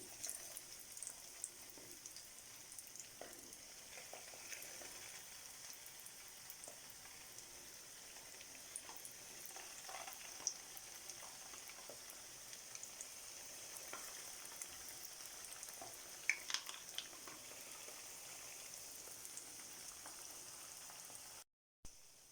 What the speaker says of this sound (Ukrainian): Смажу, як звичайні котлети.